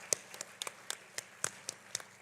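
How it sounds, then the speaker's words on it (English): A few parents clap sparsely and unevenly at a school event for the children, about nine separate, fairly faint claps spread across a couple of seconds with no steady rhythm. "Parents, can we have a huge round of applause for our speakers?"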